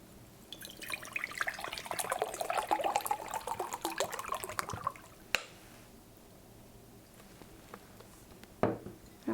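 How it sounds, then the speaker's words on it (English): Water poured from a bottle into a glass container, a steady trickling splash for about five seconds that stops abruptly, followed by a quiet room with a few faint knocks. "first we want to put our water into our glass container so that our water bottle can be empty."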